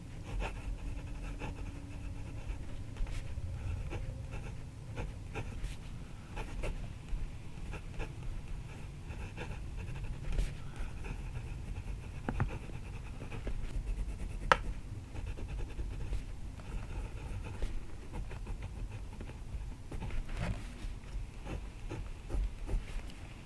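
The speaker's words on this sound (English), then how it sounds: "So this medium nib works exactly the way I expected it to work. Very smooth, lays down a nice line of ink" Jinhao 9016 fountain pen with a medium nib writing on paper, giving a soft, steady scratching of strokes up close, fairly quiet, with low room rumble behind it and no talk.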